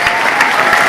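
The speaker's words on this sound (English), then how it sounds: "They deserve a round of applause." A burst of dense, loud applause from a convention panel audience at a Star Wars event, a brief continuous roar of clapping that fills the whole moment.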